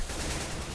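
A brief, steady burst of gunfire from Counter-Strike: Global Offensive, fairly quiet and even throughout.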